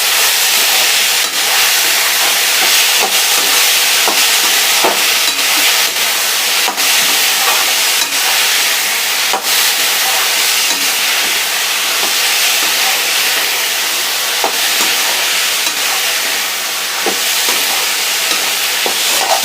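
Green chillies frying with ginger and garlic in a pan, a steady, loud hiss and sizzle that runs unbroken throughout with faint scattered clicks and no talking.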